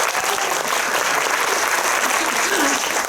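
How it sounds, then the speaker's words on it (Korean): Dense, steady applause from a cinema audience at a post-screening talk with the cast, filling the clip at full strength with a faint voice briefly underneath. "큰 박수 한번 부탁드릴게요."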